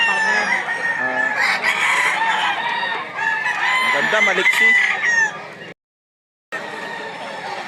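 Gamecocks at a fighting-rooster market in Lipa, Batangas crow and cluck close by, shrill drawn-out crows over dense clucking, with people talking and a brief dropout near the end.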